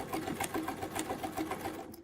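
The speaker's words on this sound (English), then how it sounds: "I got to sew forwards first and then go backwards" A sewing machine runs steadily backward while stitching a feather arrow quilt panel, a close, fast, even whir of needle strokes that drops away at the very end.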